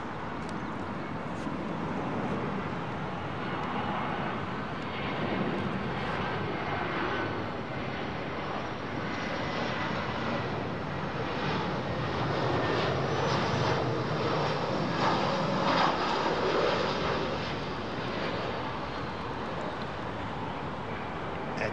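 An ITA Airways airliner rumbles steadily at London Heathrow at sunset, a broad, distant roar of jet engines that holds evenly and swells slightly near the end.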